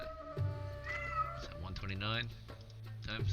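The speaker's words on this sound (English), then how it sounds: "Yeah, somebody shut that cat up." A house cat meows repeatedly in the background during a tabletop role-playing game session, its cries rising and falling under and between steady conversation.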